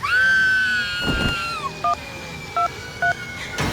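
Three short, evenly spaced dual-tone keypad beeps from a phone, following a long strained wailing cry and a rough background hiss.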